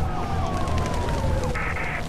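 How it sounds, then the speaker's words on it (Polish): Police car sirens wail in the video game Mirror's Edge, with rising and falling tones sweeping over a dense game soundscape and a brief electronic alarm-like burst near the end; no talk. "Zbliżają się do ciebie radiowozy."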